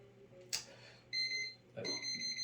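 A voltage tester beeps near a live wire in a light switch box: after a sharp click, two sustained high electronic tones sound close by, separated by a brief gap and a soft thump.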